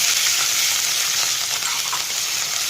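Onions frying in a pan for a Kerala curry of colocasia stems and dried fish, a dense, loud, continuous sizzle with a faint crackle, close by and with no talking.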